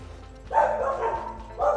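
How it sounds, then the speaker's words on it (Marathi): Several dogs barking loudly at night behind a parked vehicle during a night trek to Rajgad fort, in bursts of yapping with a short gap between them. "गाडी मागं कुत्र्यांचा जोरदार आवाज चालू आहे"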